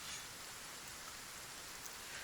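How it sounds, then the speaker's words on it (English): Steady, soft rain in the video game Kenshi hisses evenly and faintly throughout, with no talking and no other sounds standing out. "I do like the sound of rain."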